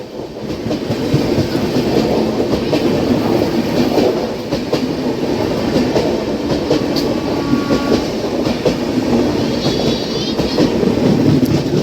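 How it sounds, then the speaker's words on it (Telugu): A train passes on the outskirts of Bangalore Cantonment: a steady, loud rumble of rolling wagons and clattering wheels continues through the whole stretch, with a faint squeal near the end and no talk. "ఏదో ట్రైన్ వెళ్ళిపోతుంది."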